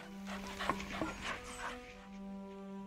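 A dog in the hidden-object game Edge of Reality whimpers and yips softly over looping game music, with a few short whiny cries near the start.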